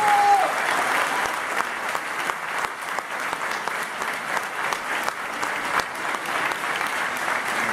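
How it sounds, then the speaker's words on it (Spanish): Sustained applause from an audience at a political rally in Mar del Plata, steady and dense clapping that fills the whole stretch at an even level, with a faint crowd murmur beneath. "a Leandro Santoro, renovamos el aplauso para él"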